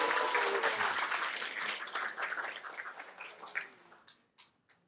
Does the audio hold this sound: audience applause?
yes